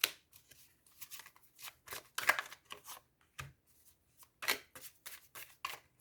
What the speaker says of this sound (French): Et on va retirer trois cartes supplémentaires.